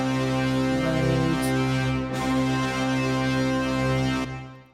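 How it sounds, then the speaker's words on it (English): Sustained brass ensemble chords from the Nucleus Lite orchestral library, a cluster of dabs swelling and building in intensity, full and loud with a brief break midway before cutting off near the end. "let's have a listen now to the brass. It's just some brass dabs,"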